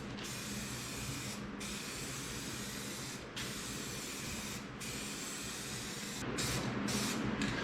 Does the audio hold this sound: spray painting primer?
yes